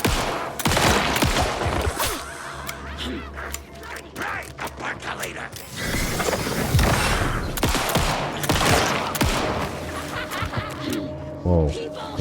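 Rapid 9mm pistol fire in Alan Wake 2, rounds cracking out in quick bursts amid dense game noise, with impacts and enemy sounds layered throughout a loud, busy fight.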